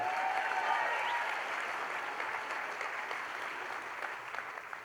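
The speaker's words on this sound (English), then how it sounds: "Let's give our school-based administrators another round of applause." Steady applause from an audience honoring school-based administrators at a district celebration event, a dense wash of clapping that holds at an even level throughout, with a few brief cheers early on and no clear speech.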